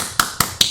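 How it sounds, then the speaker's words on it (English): Three crisp, evenly spaced hand claps in quick succession, close and sharp, alone with no talk. "I got to do my clap that I always do."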